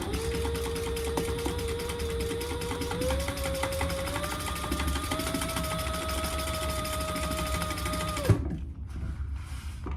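Sewing machine running continuously as it stitches the corner seams of a boxy crossbody bag, a steady whirring motor that rises slightly in speed before stopping abruptly, followed by quiet handling.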